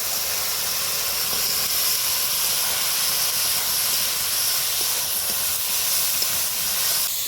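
Potatoes and soybean chunks are tipped into spice paste frying in oil in a village kitchen, setting off a loud, steady hiss and sizzle that holds without a break.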